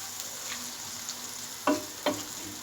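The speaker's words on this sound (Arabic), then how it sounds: "كما راكم تشوفوا خلوه يتقلى مليح" Lamb and potatoes fry in a pan for a tagine, giving a steady soft sizzle throughout with two brief louder stirring clatters near the end, close by and with no voices.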